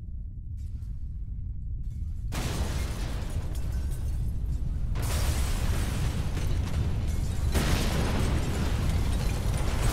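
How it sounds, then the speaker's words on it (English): Explosives detonating in a loud, sustained roar of blasts and rumbling debris, with sharp bursts stacking up over several seconds and no voices. "I only wonder if those explosives will work."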